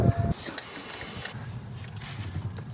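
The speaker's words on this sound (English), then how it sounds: "I'm gonna spray some WD-40 down in that cylinder hole." A sharp WD-40 aerosol spray hisses steadily for about a second into a cylinder hole of a 1976 Porsche 914 VW Type 4 engine after a brief clunk, then stops, leaving low mechanical rumble and faint handling noise.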